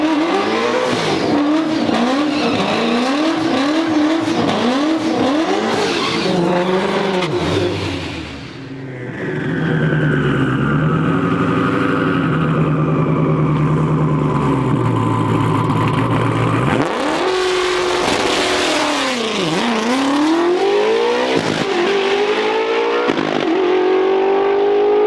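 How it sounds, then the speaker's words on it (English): Ford Shelby GT350R on a quarter-mile run, its engine loud and close, revving hard through rising gear sweeps with a short lull midway before a strong climbing wail and another series of shifts. "Here's another clip of the Shelby GT350R showing its performance and how it handles a quarter-mile lap time"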